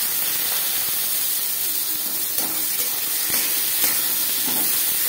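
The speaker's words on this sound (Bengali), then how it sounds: "ফোড়নে দিয়ে দিলাম শুকনো লঙ্কা" Dried red chillies frying in hot tempering oil, giving a steady, close hiss and sizzle with a few soft pops, no voices.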